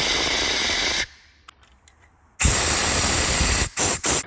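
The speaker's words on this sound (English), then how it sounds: "Then we just go through in all the bolt holes that we put the brake clean in, squirt it all out of there." Brake cleaner sprayed into the bolt holes of a low-compression 2017 Arctic Cat ZR 9000 Turbo engine: a loud, close hissing spray runs about a second, then after a quiet pause a longer blast follows and two short bursts.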